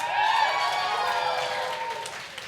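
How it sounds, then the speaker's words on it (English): An audience applauds for award nominees at a holiday party awards event, a steady, dense patter of many hands clapping through the whole stretch, fading only slightly toward the end. "there will be a lot of clapping"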